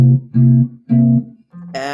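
A series of seventh chords picked fingerstyle on guitar in a blues progression, several sustained strummed chords with short gaps between them, played alone and fairly loud.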